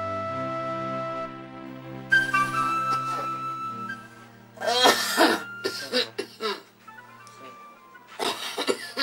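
A person in a Nigerian drama scene coughs and clears the throat in several harsh bursts over soft background music, with short pauses between the fits.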